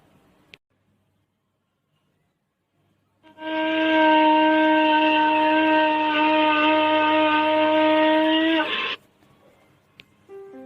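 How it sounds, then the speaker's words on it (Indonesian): A single sustained, reedy wind tone rich in overtones from a fu, a traditional Maluku instrument, blown steadily for about five seconds then stopping abruptly, heard alone in a quiet room. "Nah, seperti ini bunyi alat musik fu."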